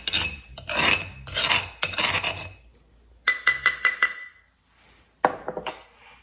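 A spoon scrapes garlic paste out of a stone molcajete in short gritty rasping strokes, followed by a run of sharp clinks against the stone and a few lighter scrapes, close and alone.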